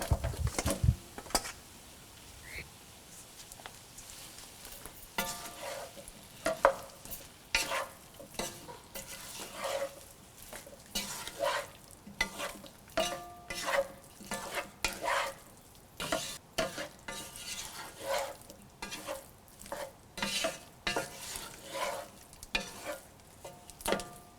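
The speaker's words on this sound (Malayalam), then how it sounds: "ഇതിലോട്ടിനി നമ്മൾ വേവിച്ച് വെച്ചിരിക്കുന്ന കപ്പയിട്ട് നന്നായിട്ട് മിക്സ് ചെയ്യുക." Boiled tapioca being mixed into prawn masala in a pan, with repeated scraping stirs and soft sizzling in an irregular rhythm, close and moderately loud, no voices.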